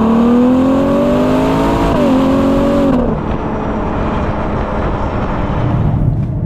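Ferrari Purosangue SUV engine accelerating hard, a loud rising engine note climbing through the revs, a brief shift at about two seconds, then ending at three seconds in a rushing drone of road and wind noise.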